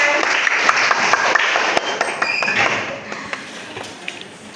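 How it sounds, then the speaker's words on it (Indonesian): A school chemistry class applauding after being seated, a scattered patter of clapping with a few sharp louder claps that thins out toward the end, light background voices. "Tepuk tangan."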